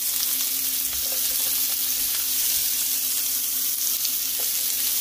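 Onions and peppers fry hard in a pan for arroz mamposteao, a loud dense crackling sizzle that runs without a break under a faint low hum.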